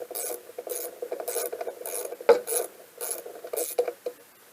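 A socket ratchet clicking through several rhythmic strokes while loosening a bolt on a lawnmower, with a sharp metallic snap partway, close and without talking.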